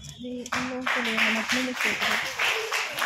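Scattered audience applause at a college national seminar fills the hall, steady clapping that runs on while a voice keeps talking over it.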